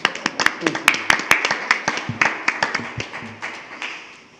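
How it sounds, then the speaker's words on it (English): A small group clapping at a school board meeting, a few people's distinct sharp claps in an uneven rhythm, close and fairly loud, fading after several seconds with faint voices in the room. "I'll give you a clap, Patrick."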